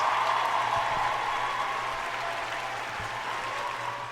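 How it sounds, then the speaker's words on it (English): A round of applause from a small group, steady clapping that holds for several seconds at moderate loudness and gradually thins out, with no voices over it. "I gotta give you a round of applause on that one."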